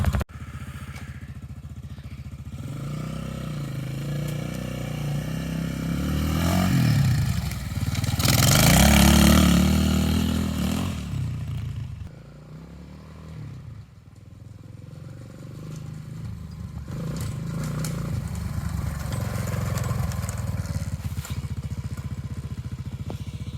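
An X-Pro 250 dual sport motorcycle is started and ridden off-road, its engine revving up to a loud peak near the middle, then dropping to a steadier mid-pitched run with rattling, close to the listener.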